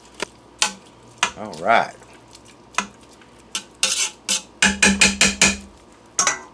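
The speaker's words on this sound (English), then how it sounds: "2 cups of rice, add that to the pot. Give that a good stir." Rice being stirred into a pot for spicy chicken curry: a series of sharp spoon clacks and scraping knocks against the pot, irregular then a quick rhythmic run, close and loud, with a brief spoken word.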